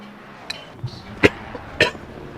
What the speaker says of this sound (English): I'll try not to cough into the microphone again for you guys.